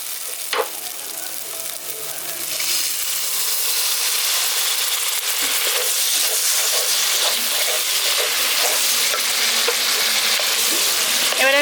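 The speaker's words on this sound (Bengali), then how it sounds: "এবার এর মধ্যে আমি জল দিয়ে দিচ্ছি।" Water poured into sizzling spice masala in a pan for soybean korma sets off a sudden, loud, steady hiss that swells after a quiet start and carries on with faint clinks, close up.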